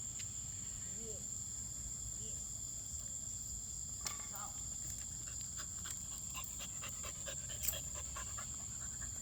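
A dog pants softly and rhythmically outdoors over a constant high chirring of crickets, with a few faint clicks and no clear talk.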